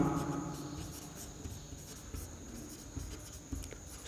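Writing by hand during a Class 12 biology lesson, with a steady, close scratching of a pen or chalk in short strokes over a faint background hum.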